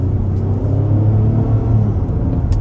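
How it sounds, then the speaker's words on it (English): A 2024 Acura MDX A-Spec accelerating at half throttle in comfort mode, giving a steady low engine rumble that swells slightly as it pulls, with no voices over it. "we can try about half throttle in comfort mode"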